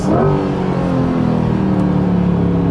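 A 2020 Corvette Stingray Z51 accelerates hard, its engine rising loud and close in a continuous revving pull with a quick upshift near the start, heard from inside the car.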